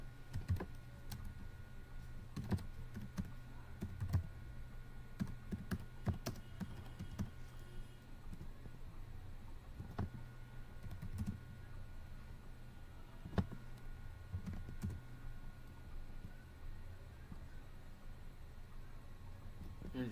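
Someone types on a computer keyboard at a steady pace for about twenty seconds, the key clicks sounding close but fairly quiet, with a few louder taps over a low background hum.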